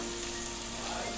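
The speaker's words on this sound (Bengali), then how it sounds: "মাংসটা দিয়ে একটু ভালো করে কষিয়ে নেব" Chicken sizzles steadily as it is stir-fried in a pan for a Mughlai chicken shahi korma, a dense continuous frying hiss with no voices.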